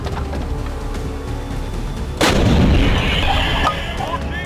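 An M777 ultralight howitzer fires once, a sharp loud blast that rolls into a rumbling boom and fades after about a second and a half against steady background noise.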